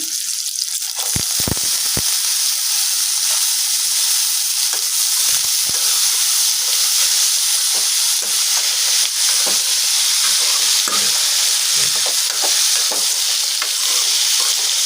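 Banana stem stir-fry cooks in a pan with a loud, continuous frying sizzle and occasional spatula scrapes and taps against the metal, close up and with no voices.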